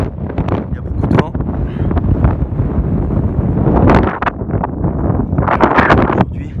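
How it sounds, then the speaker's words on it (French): Strong gusty wind buffets the microphone in loud, roaring bursts, with a voice partly audible under the rumbling blasts. "Il y a beaucoup de vent."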